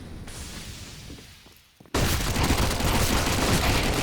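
Rapid MAC-10 submachine gun fire in a Counter-Strike esports match, a sudden dense burst of close, loud shots that carries on without a break after a quieter opening.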